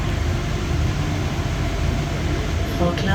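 Driverless automated Paris Metro Line 1 train riding, heard from the front of the car as a steady, loud rumble and rattle that holds evenly throughout, with a brief brighter squeal near the end.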